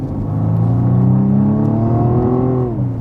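A BMW M135i xDrive's engine revs hard in sport mode, its pitch climbing and holding in a loud, sustained roar before easing off near the end.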